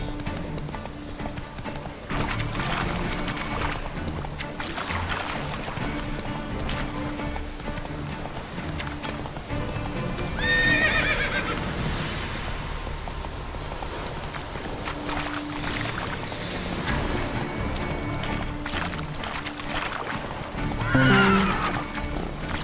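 Horse hooves clip-clop steadily in the Witcher 3 video game as the mount rides through a forest, with a couple of loud whinnies breaking over the rhythmic hoofbeats.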